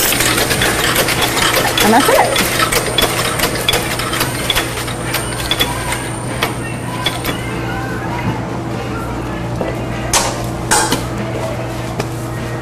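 A saltwater taffy cutting and wrapping machine runs with a steady mechanical hum and a fast rhythmic clatter, close by, with a few metallic clinks and a person speaking briefly over it.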